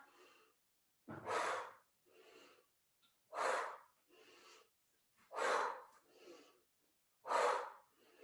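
Slow deep breaths during a breathing exercise, several long airy inhales and softer exhales alternating in a steady rhythm, close and quiet with silence between them.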